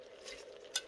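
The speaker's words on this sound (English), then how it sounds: "Give it a good stir." A spoon stirs a smoky vegetable stew in a pot with a soft, brief swish, ending in a single light clink against the pot.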